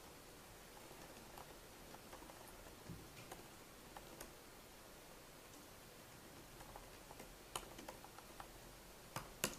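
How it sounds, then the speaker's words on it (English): Faint, sparse keyboard typing, irregular clicks over a soft hiss, with a few louder taps near the end. "So I'm hearing typing"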